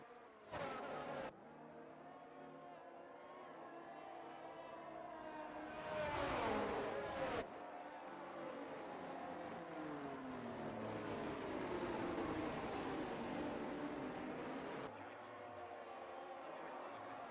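Engines of F1 23 race cars roar in a video game Grand Prix start at Japan, a dense sustained drone with rising and falling pitch, swelling loudest for a second around the middle before settling into a steady, layered whine.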